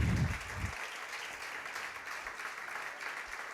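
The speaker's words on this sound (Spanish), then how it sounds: "Se pueden sentar cómodamente y brindarle los aplausos al que vive y reina para siempre." A crowd applauds steadily, a dense wash of clapping that holds at an even level throughout, heard from within a large room.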